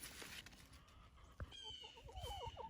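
Chickens clucking in a garden chicken run, a quick series of short rising clucks from one nearby bird over faint outdoor background, preceded by a single sharp knock.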